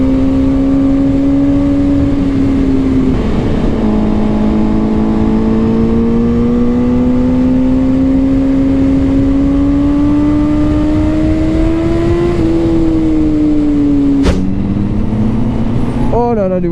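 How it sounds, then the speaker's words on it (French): A powerful 217-horsepower Honda CBR1000RR-R SP sport motorcycle engine drones loudly and steadily, its pitch climbing gradually through the gears with a brief shift near the end, heard close up. "pour une moto de 217 chevaux"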